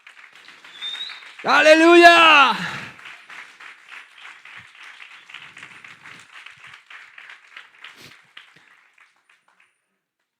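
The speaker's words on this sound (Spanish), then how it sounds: "Dar un aplauso a Jesús." A church congregation applauds Jesus during a sermon by a pastor; a loud voice shouts out early, then scattered rhythmic clapping continues softly for several seconds before fading to quiet.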